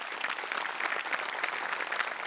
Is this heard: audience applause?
yes